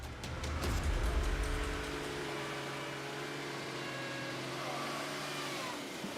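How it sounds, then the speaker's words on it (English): A car's engine revs hard as it struggles up a rough Congolese road toward a ravine through crevices full of water, surging loudly for a couple of seconds before dropping to a steady, labouring hum. "Our car struggles to get to the ravine, despite several attempts due to crevices full of water."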